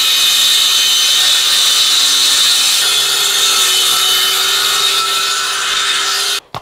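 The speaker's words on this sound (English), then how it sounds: "now I'm gonna set the depth like this, so it just cuts all the way up this and it only cuts this thing off" Power tool cutting bathroom trim, a loud, continuous high-pitched grinding whine that holds steady for several seconds before stopping abruptly.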